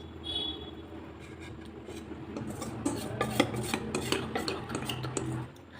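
Vanilla cake batter goes into an oil-greased tin, heard as soft scraping and clinking of a utensil against the bowl, with rubbing sounds that build and continue for several seconds at close range.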